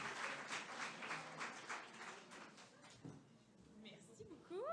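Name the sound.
audience applauding a lecture speaker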